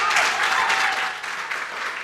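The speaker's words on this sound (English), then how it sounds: "Round of applause for Tracy." A studio audience applauds a contestant on a televised talent show, with steady, lively clapping that fills the whole short moment at close range.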